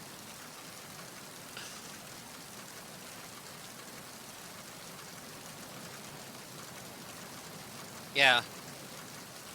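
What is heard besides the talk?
rain sounds in the video game Metal Gear Solid 2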